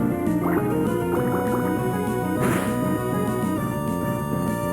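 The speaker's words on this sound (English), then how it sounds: "Water gun." In Pokémon Emerald, a Water Gun attack plays as a steady stream of watery, dripping game effects set over continuous in-game music, with no talking.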